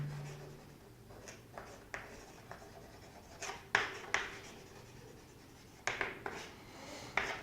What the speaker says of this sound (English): I'll write this Bohr-Bury scheme here